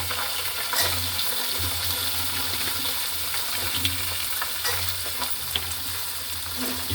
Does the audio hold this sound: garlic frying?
yes